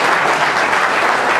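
An indoor audience at a FIGC Veneto election meeting claps for Benedetto Piras, vice president of the Lega Nazionale Dilettanti. The applause is brief, dense and loud, with no pauses.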